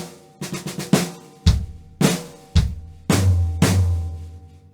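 A drum fill on a drum kit with snare and floor tom struck together, a handful of sharp hits and quick rolled strokes in a steady count, close and alone.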